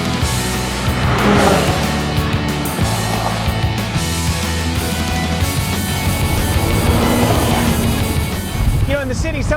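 A loud 2008 Lotus Elise SC engine revs and shifts continuously, rising and falling as it drives the winding Angeles Crest Highway, with a voice speaking over it.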